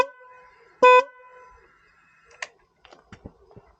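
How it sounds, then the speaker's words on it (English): A short, loud blast from an aftermarket horn fitted to a Triumph motorcycle sounds once, steady and bright, followed by scattered clicks and small mechanical knocks nearby. "it makes a better noise than the original Triumph horn did"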